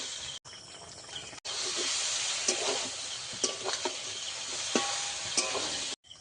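Soaked soybean chunks frying in a pan, a steady bright sizzle with occasional stirring clinks and scrapes, close and alone.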